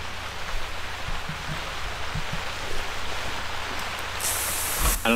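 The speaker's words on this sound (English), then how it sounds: "All I can hear is the rain." Steady rain hiss in the hunting game theHunter fills the scene, a dense, even patter of drops with a few faint knocks and rustles underneath.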